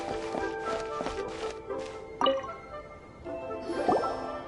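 Water drips in Genshin Impact, a series of separate wet plinks and taps landing irregularly, close and fairly faint over a quiet background.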